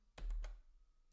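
Typing on a computer keyboard while editing in Vim, a quick cluster of three or four close, distinct key presses followed by a faint final tap.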